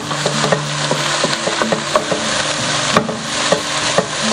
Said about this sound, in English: Just going to saute that for a minute.